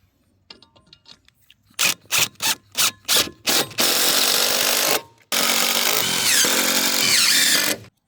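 Close power drill driving a screw into a wooden post: several short bursts of whirring and grinding, then two longer continuous runs as the screw is driven in.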